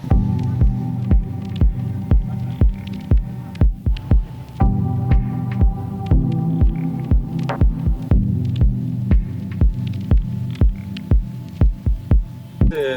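A sailboat's engine running at night under motor: a steady low throbbing drone with a regular pulsing beat, loud and close, with no talk over it.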